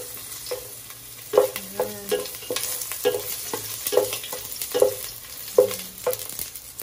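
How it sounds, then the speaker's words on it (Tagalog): Garlic dropped into a hot frying pan (kawali) for spaghetti sauce, a soft close sizzle with regular scraping and tapping of a spatula stirring every second or so, no voices. "Mainit na yung ating kawali. Lagay na natin yung bawang."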